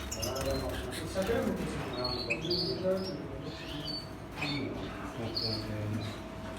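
Canaries and other cage birds in an aviary give short, high chirps and tweets scattered across several seconds, faint and partly under close talking.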